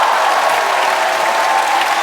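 Dense, continuous applause from a large comedy-show studio audience, loud and steady throughout without a break.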